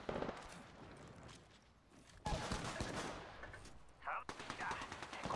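Rapid automatic gunfire crackles in Apex Legends on Kings Canyon, coming in three loud bursts separated by quieter stretches, each burst a dense rattle of shots.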